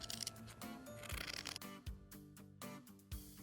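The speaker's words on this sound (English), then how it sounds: "I have a bunch of layers here, so I'm just cutting through them" Scissors snip through several stacked fabric layers and a nylon or plastic zipper while a garment neckline is reshaped, giving close, crisp cuts in short repeated bursts with music running underneath.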